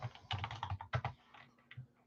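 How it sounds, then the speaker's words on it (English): Rapid clattering keystrokes on a computer keyboard during a live sports card break stream, bursts of quick taps for about a second, then sparser, quieter presses, close and clear with no talking. "Let's start typing."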